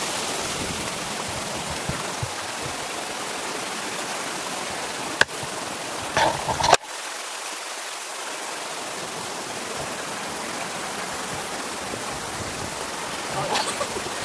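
Steady roar of Wong Lung Hang Waterfall in Hong Kong, loud and continuous, with a couple of sharp knocks partway through.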